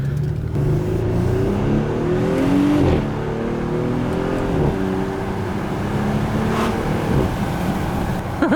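An Audi SQ5 accelerates on a short test drive, its engine rising through gears in a loud, close interior drone with shifting tones and a brief dip midway.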